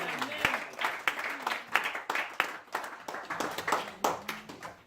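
A church congregation applauds the Lord in a rhythmic burst of clapping, sharp handclaps coming in uneven waves, close and steady throughout with voices mixed in beneath.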